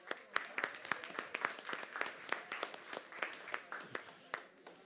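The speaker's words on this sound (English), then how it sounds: "Please give a huge round of applause for Jose Millet." Scattered applause from a conference audience for moderator Jose Millet on a stage at a health and wellbeing summit in Valencia, individual claps distinct and fairly quiet, thinning toward the end.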